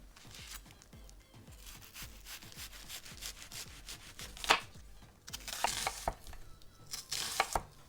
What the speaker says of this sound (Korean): 적양파는요 사각으로 썰어주겠습니다